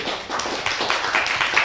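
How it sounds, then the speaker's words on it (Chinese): An audience at a seminar on AI and law applauds with a brief burst of scattered, fairly close hand claps, and no voices are heard. "那我们就借由各位的掌声，我们邀请我们第一位分享的就是我们的猫董律师"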